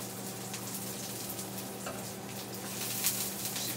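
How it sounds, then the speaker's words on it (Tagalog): Garlic frying in oil until brown in a pan, a steady bright sizzle with a faint crackle throughout, close and unbroken, with no talking. "Ito na ito, umo-brown ang ahos."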